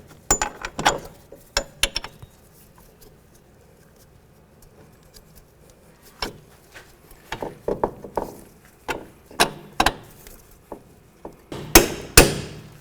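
Bolts are tapped into a 2005-2010 Chevy Cobalt front strut and steering knuckle, giving sharp, close metallic knocks in irregular clusters with brief quiet gaps between them.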